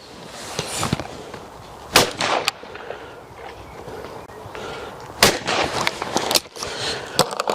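Browning shotgun fired at clay targets on an outdoor range: several loud, sharp reports come in pairs and singles, each with a short echoing tail, over wind and background noise.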